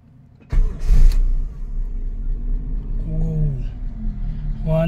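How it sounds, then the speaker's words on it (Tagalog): A small-body Toyota Corolla engine cranks and catches without any gas pedal, giving a sudden burst of starter noise. It then settles into a low, steady idle rumble, with a faint voice talking over it. "Tingnan natin kung walang tulong ng gas pedal kung magi-start siya ng maganda."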